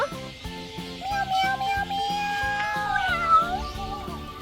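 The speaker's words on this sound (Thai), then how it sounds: "อุ้ยเจอเจ้าแมวเหมียว" A cat meows several times in a drawn-out, wavering way, heard over a steady electric scooter hum and buzz during a ride through a village neighborhood.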